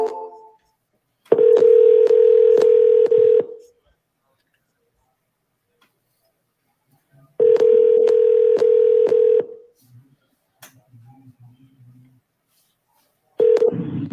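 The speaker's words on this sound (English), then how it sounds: "So I'm hopping on the phone with them right now." A telephone call being placed: two long, loud ringback tones with clicks several seconds apart, a third starting at the end, with quiet background sound in the gaps.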